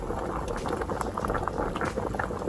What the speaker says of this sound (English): Okay guys, so the potatoes are boiling,